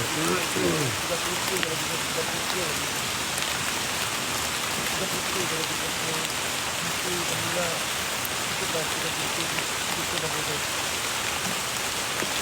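Heavy rain falling as a constant, dense hiss that fills the whole stretch without letup, with faint voices murmuring underneath.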